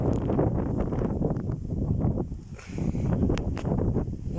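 Strong gusty wind in an open field during a storm roars continuously, buffeting the microphone with heavy rumbling noise that dips briefly then surges back.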